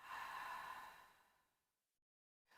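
A deep, breathy exhale during a beginner yoga flexibility stretch, a soft airy rush that fades over about two seconds into silence, close and alone.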